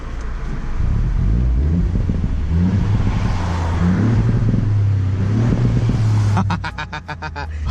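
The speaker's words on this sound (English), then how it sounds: "Let's give it a couple revs. Oh, but can you hear that? It pops and bangs much more." A 2019 Ford Fiesta ST engine revs up and down, loud and close with some wind noise, ending in a rapid series of sharp popping bangs from the exhaust.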